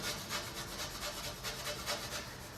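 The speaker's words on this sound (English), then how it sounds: "using this rough pad just to scuff it up a bit" Metal being scuffed with a rough abrasive pad, a rhythmic back-and-forth rasping of about ten quick strokes, close and fairly quiet with no talk.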